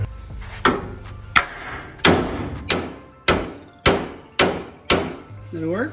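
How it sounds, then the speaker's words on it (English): Eight hard hammer blows strike a metal radiator bracket on a 1968 Ford Bronco at a steady, unhurried pace, each ringing briefly before the next, close by with a faint voice near the end. "This bracket, I need a hammer."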